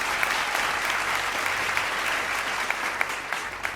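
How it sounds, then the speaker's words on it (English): Studio audience applauding a judge on a cooking competition show, sustained dense clapping with a few sharper individual claps standing out, steady and fairly loud. "Round of applause for Dr. Kaffy."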